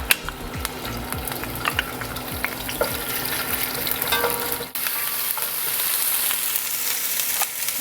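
Cumin, mustard seed and garlic frying in olive oil, a close crackling sizzle with quick popping ticks and stirring scrapes, the texture thinning into a steadier hiss partway through, with no speech.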